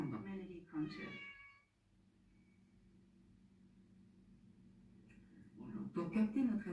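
A cat meows close by, a short rising-falling call near the start, then a quiet pause before another louder meowing burst at the end.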